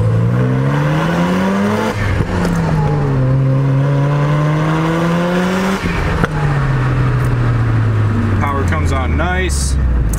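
A twin-turbo rotary engine in a Mazda FD RX-7 sports car revs up and down in long, loud sweeps, the pitch rising and falling repeatedly, with a steady roar throughout.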